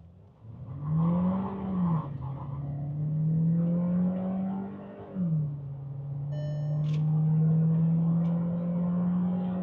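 Skoda Slavia petrol sedan accelerating hard, its engine note rising steadily through the revs, dropping with a gear change, then climbing again in a loud, smooth drone heard inside the car.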